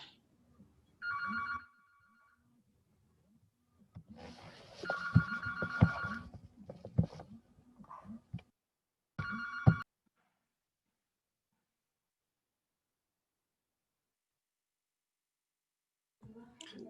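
A telephone rings indoors at home in repeated short bursts separated by silent gaps, each ring a bright trilling electronic tone, with brief faint voices and handling noise between rings.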